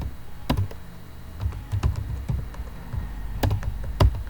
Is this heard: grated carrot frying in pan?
no